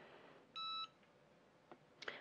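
A Cricut heat press gives one short, clear electronic beep, followed by faint handling clicks and taps nearby in an otherwise quiet room.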